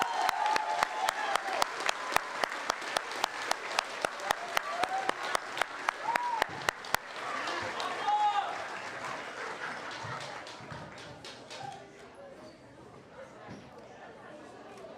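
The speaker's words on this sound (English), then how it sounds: "Can we give them a round of applause?" Audience applause at an elementary school sixth grade moving up ceremony: one person's sharp, evenly spaced claps lead over the crowd's clapping, then everything fades into scattered claps and murmuring voices.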